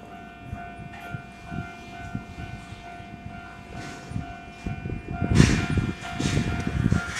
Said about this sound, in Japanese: 列車が到着。 あれはね、各駅停車新宿行き。